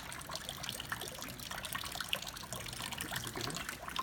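Water flowing from a smart water tank, a faint continuous trickle and splash with no voices over it.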